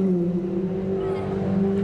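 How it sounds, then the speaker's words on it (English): Steady, high-pitched whine of a single-seater Grand Prix race car engine at Mondello circuit in County Kildare, holding a sustained tone at moderate distance. "the shrill of a Grand Prix engine is the magic ingredient that brings the punters through the turnstiles"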